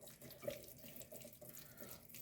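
Cold tap water runs steadily and softly over hands at a kitchen sink before shaping homemade cutlets, a faint continuous wash with no talking.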